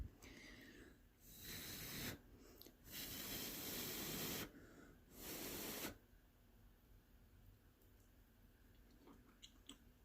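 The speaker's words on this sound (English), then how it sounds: "Gotta blow, because look at that steam." Breath blown onto a hot, steaming meatloaf just out of the oven, heard as several loud, airy bursts of rushing breath with short pauses, close up, followed by a quieter room.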